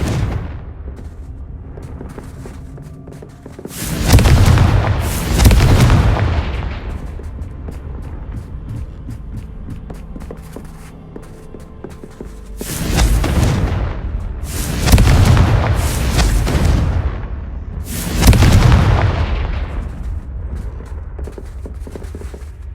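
Spell explosions from Confringo casts in Hogwarts Legacy burst out in loud booming blasts, one pair early on and three more later, each with a rumbling tail over a low ambient bed.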